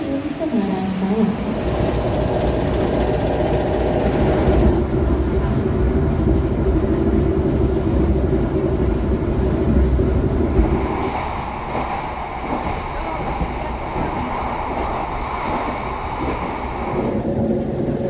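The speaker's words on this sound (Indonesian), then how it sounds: "Saat ini saya sedang berada di stasiun Semarang Tawang dan saya akan melakukan perjalanan dari Semarang ke Jakarta dengan kereta api Argo Muria." Trains rumble through Semarang Tawang railway station, a steady loud mechanical roar of rolling stock that eases off partway, with an announcement-like voice and talk mixed in.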